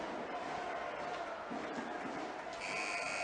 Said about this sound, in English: And the buzzer goes.